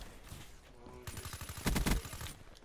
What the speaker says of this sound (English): You have got the KN, by the way, and that is like one of the best guns, one of the best like rapid fire guns in the game.